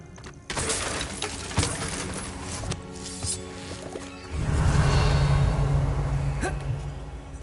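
Revelio revealing spell cast in a video game, a sustained shimmering magical swell that rises into a low humming resonance for the last few seconds, alone with no talk.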